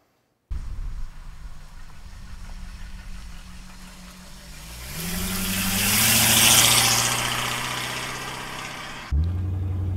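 A 1934 Ford street rod's engine runs steadily at idle, its low rumble swelling to a louder rev in the middle before settling back, close and alone with no talk.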